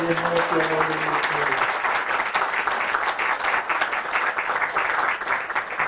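A congregation applauds at a church ordination service after new deacons and elders are proclaimed, loud, sustained crowd clapping close by with a brief sung or spoken tone early on, the dense patter holding steady throughout.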